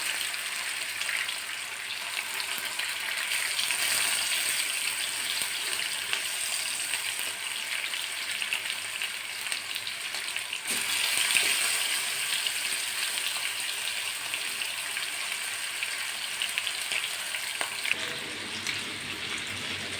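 Pieces of chicken frying in coconut oil for chicken kondattam make a long, steady hiss with a faint crackle, holding at a moderate level throughout with a slight surge around the middle; no talking.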